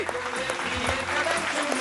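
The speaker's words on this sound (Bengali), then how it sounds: "জোরে হাততালি" Studio audience applauding on a Bengali family game show, a dense steady patter of clapping filling the short stretch at even loudness, with a voice speaking over it.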